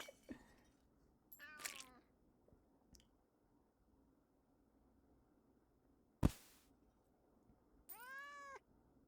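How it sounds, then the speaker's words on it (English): A cat meows several times, short rising-falling cries spaced apart with a sharp click between them, fairly close in an otherwise quiet room. "Why am I hearing meows?"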